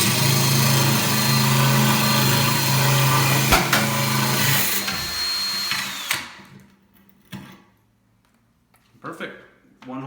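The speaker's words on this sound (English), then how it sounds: "just let the drill bit do the work for you" A power drill bores a hole through aquarium glass for a 45 gallon reef tank, a steady whining grind that runs for several seconds before cutting off, leaving quiet drips and small knocks.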